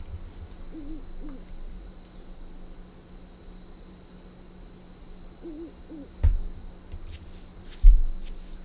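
Owls hoot softly at intervals over a low, steady ambient hum in a quiet night scene of the Demon Slayer Hinokami Chronicles video game, with two brief louder knocks near the end.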